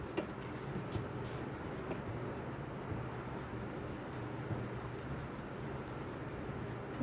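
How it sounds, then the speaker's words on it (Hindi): Pen writing on paper while working a probability problem, soft continuous scratching and rubbing strokes, quiet and close with no voice. "अब यहाँ पे हम लिखते हैं कि"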